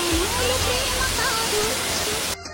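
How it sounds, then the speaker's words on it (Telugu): The Rani Duduma waterfall roars as a dense, continuous rush of falling water, loud and close, with a faint voice or music line drifting over it before the sound cuts off near the end. "welcome to Rani Duduma water fall"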